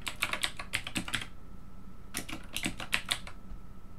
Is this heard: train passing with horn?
no